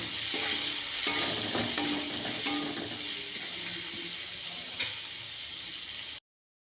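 Onions and chopped tomato frying in oil in a pan while being stirred, a steady close sizzle with scattered scraping clicks of the spoon, no voices, ending abruptly.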